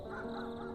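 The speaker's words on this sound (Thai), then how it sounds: "และเสียงครางของนกที่หากินในยามค่ำคืน" A bird gives a drawn-out, throaty call, close and steady, with a soft hum of night air beneath it.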